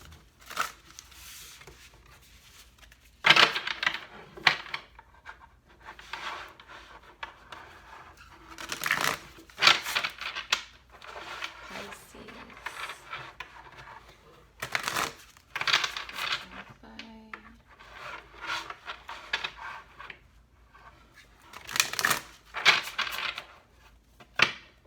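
Tarot cards shuffled by hand in repeated bursts of papery riffling and slapping, close and crisp, separated by short pauses with occasional quiet sounds between.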